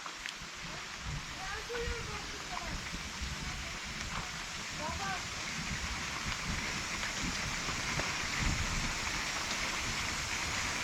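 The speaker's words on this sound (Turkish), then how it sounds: "Az yağıyor ama iri iri yağıyor." Sparse, heavy raindrops patter steadily outdoors in a light shower, forming a broad wash with scattered distinct drop hits and a faint voice in the background.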